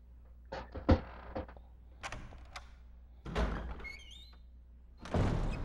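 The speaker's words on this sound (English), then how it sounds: "These are the most realistic door opening sound effects I ever heard" Door opening in the Resident Evil REmake, a sequence of heavy clunks, creaks and a latch thud spread across several seconds, close and distinct, with no talk over it.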